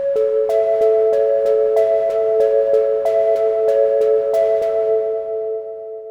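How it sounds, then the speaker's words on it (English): A bright synthesized tone with steady sustained pitches and a string of short, evenly spaced plucked notes, fading out near the end. "And then lastly, we are going to want a noise."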